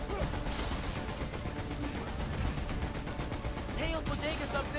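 Gunfire during a fight in Marvel's Spider-Man: Miles Morales, a dense stream of rapid shots and crackling bursts running throughout, with speech mixed in.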